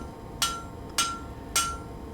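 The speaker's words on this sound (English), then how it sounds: "use the anvil as a rivet header and hammer on the opposite side and go for it" Three evenly spaced, sharp ringing hammer blows on an anvil used as a rivet header while riveting hollow-bit blacksmith tongs, close and clear with no talk.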